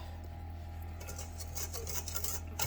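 Dry baking ingredients mixed gently in a bowl for a chocolate chess pie, a faint, soft scraping and rustling that grows slightly busier toward the end over a low background hum.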